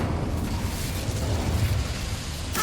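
Incendio fire spell cast in Hogwarts Legacy, giving a steady, loud rumbling roar of flame that fills the whole stretch without a break.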